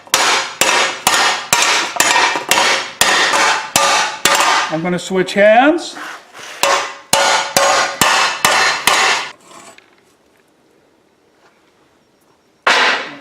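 Rapid, loud hammer blows shaping sheet metal for a whale sculpture ring out in quick bursts, pause briefly, resume, then fall silent before a final strike; a voice speaks briefly midway.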